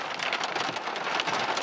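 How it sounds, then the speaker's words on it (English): Hail falling hard during a storm in northwest Kansas, a dense, continuous hiss of pelting impacts at steady loudness, close and with no voices. "Oh, hail's coming."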